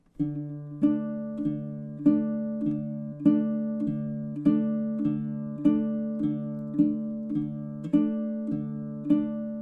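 Baritone ukulele played fingerstyle on a simple two-chord tune, thumb and index plucking a steady repeating pattern of low notes, close and quiet, no voices.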